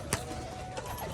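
A Rajshahi pigeon gives brief, faint coos, one quick note then a softer one, from a flock loose on a tin roof.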